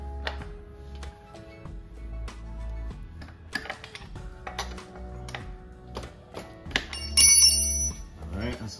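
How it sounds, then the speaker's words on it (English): A bright bell rings near the end, following scattered metallic ticks and clicks of tools and parts being handled while adjusting the chain on a 2007 KTM 250 XCF motorcycle. "the bell that tells us that we're victorious."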